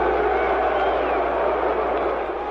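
A crowd at a 1962 heavyweight boxing match boos a challenger entering the ring, heard as a steady roar of many voices with a muffled, dated tone and no letup.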